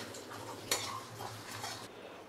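Dry roasting whole spices for Delhi-style Pindi chole masala, a spoon scraping and stirring them in a pan, soft irregular scrapes and a sharp metallic tap, faint and close with no talk.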